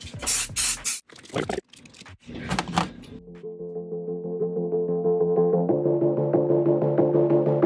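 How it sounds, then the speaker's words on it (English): Several sharp bursts of aerosol mold release spray hiss in quick succession onto a silicone fish-bait mold, then give way to a rising mechanical whir that builds steadily. "I'm gonna go ahead and spray it with mold release"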